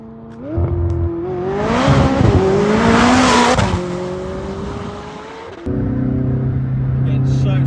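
A McLaren 600LT sports car surges up the road with a loud, rising engine roar and quick gear changes, the engine note climbing in steps before settling back to a strong, steady drone, heard from inside the car.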